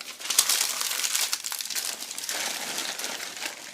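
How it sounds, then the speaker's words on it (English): Paper scraps being crumpled by hand during cleanup after cutting out homemade refrigerator magnets, a dense, close crinkling rustle running continuously with no talking. "Take our trash and clean up our area."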